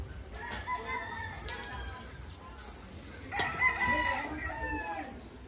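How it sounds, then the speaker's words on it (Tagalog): A rooster crows twice at a rural home in the Philippines, each call rising and falling, moderately near and clear over a faint steady background hum, with a few soft clucks between. "Manok."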